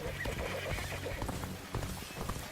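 A horse in the video game Dynasty Warriors: Origins gives a whinny over hoof clip-clop and other game sounds, at moderate volume and brief.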